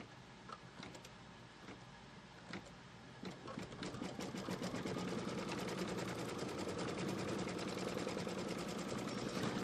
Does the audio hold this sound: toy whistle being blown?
no